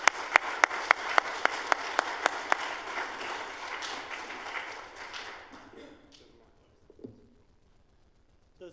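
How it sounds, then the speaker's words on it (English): An audience at a demo day event breaks into a round of applause, sharp distinct claps at first merging into dense, sustained clapping that fades out over several seconds. "So if we can give a round of applause."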